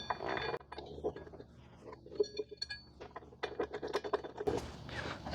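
A metal bolt clinks and scrapes as it is fed through the mounting hole of a Can-Am Ryker rider backrest mount, with quiet, scattered taps and rattles close by.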